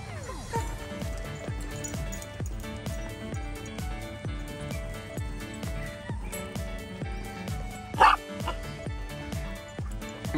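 Several dogs at a doggy daycare bark and yip repeatedly in rapid, overlapping bursts, close and loud, with a sharper yelp standing out partway through and a person talking amid the barking.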